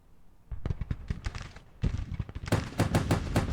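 Gatling guns firing in Grand Tactician: Civil War, rapid rattling bursts of shots that start sparse and build into dense, loud volleys of continuous fire.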